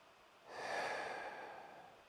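One slow, close inhale through the nose during a chest breathing exercise, a soft airy hiss that rises and fades over about a second and a half, alone in a quiet room.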